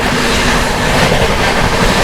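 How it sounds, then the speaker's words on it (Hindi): An Amrit Bharat Express from Patna races at about 130 km/h through heavy rain at night, a steady, loud rushing roar of wheels and rain with faint rhythmic clatter throughout. "फ्लैट 130 का तांडव भाई अपनी अमृत भारत एक्सप्रेस का।"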